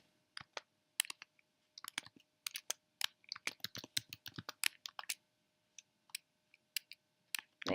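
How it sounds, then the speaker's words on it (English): A password is typed on a computer keyboard during a WordPress setup, heard as quiet, close key clicks in uneven bursts with short pauses, alone against a near-silent background. "I'm gonna just use example and enter a password."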